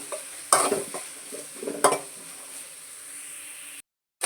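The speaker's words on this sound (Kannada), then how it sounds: "ಸಾಸಿವೆ ಎಲ್ಲ ಚಿಟಪಟ ಅಂತ ಸಿಟ್ಟಿದ್ದಾದಮೇಲೆ ನಾವು ಇದಕ್ಕೆ ಈರುಳ್ಳಿನ ಸೇರಿಸ್ಕೊಳ್ಳೋಣ ಈರುಳ್ಳಿನ ಸ್ವಲ್ಪ ಕಲರ್ ಚೇಂಜ್ ಆಗುತ್ತೆ ತನಕ ಫ್ರೈ ಮಾಡ್ಕೊಳ್ಳಿ" Onions frying in oil with mustard seeds for an egg Maggi recipe make a soft sizzle, broken by a few sharp clinks and scrapes of a spoon against the pan before a brief cut to silence.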